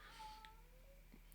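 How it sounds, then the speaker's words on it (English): A house cat gives a short, faint meow that rises and then slides down in pitch, followed by a softer second sound, heard in a quiet indoor room with no talking. "So that's our cat Gowron."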